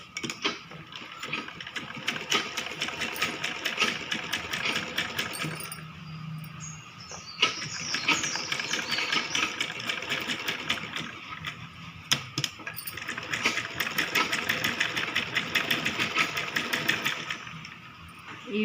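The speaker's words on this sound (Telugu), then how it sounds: "మనం ఈ విధంగా స్టిచ్ చేసుకోవాలి" Sewing machine stitching a kids' lehenga blouse, rapid mechanical needle clatter running in long bursts with brief pauses and handling clicks between, close and moderately loud with no talk.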